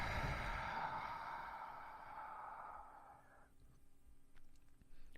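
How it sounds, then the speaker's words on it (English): A hard, forceful exhale pushed out through the mouth during vinyasa yoga breathing, a long breathy rush up close that fades after a few seconds into quiet room noise. "Exhale hard out the mouth."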